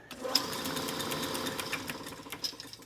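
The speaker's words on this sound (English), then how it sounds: "And it actually functions like a metal lathe should." A 1914 South Bend treadle-powered metal lathe running, with a steady rapid mechanical clatter and rhythmic whirring and faint ticking hits throughout, close and moderately quiet.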